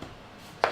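A knife strikes a cutting board once while rough-chopping salsa vegetables, leaving a single close, crisp chop after a quiet moment.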